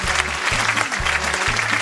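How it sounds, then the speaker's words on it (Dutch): Audience applause for a human-cannonball act at a festive village music show, a dense steady patter of many hands with a low rhythmic music pulse underneath. "Dames en heren, een applaus voor Borat, die levende kanonskogel"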